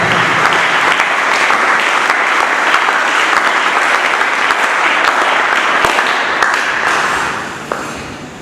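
A church congregation applauding, dense sustained clapping from many people that holds steady for several seconds and then fades out.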